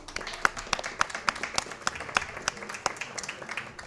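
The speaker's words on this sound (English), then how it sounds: "Big round of applause for those guys because we really appreciate it." Audience applause at a high school League of Legends esports tournament, distinct sharp claps scattered through a steady wash of clapping, moderately loud and continuous.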